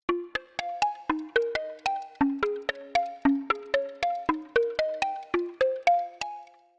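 A bright synth pluck preset for tropical house bounces through a rapid, steady arpeggiated melody of short percussive notes, each snapping on and fading fast, close and clear with nothing else underneath.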